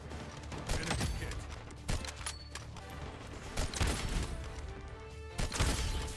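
Gunfire in the shooter game Bloodstrike, several sharp reports and bursts landing among constant in-game action noise, fairly quiet overall.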